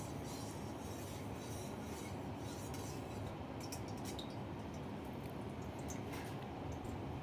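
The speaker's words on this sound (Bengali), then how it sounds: "এবার পনিরগুলো আমি একটুখানি কড়াই নেড়ে নেবো, ওই জন্য 1 চামচে ঘি দিলাম" Paneer stirred and fried in a spoonful of ghee in a kadai gives a steady, close sizzle with scattered clinks and scrapes of a spoon against the pan, running continuously and alone.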